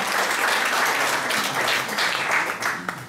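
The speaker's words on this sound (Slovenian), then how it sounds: "En aplavz za srčnega in srečnega človeka." Audience applause during a live pageant broadcast, a steady, loud wash of many people clapping that holds for about three seconds before thinning slightly at the end.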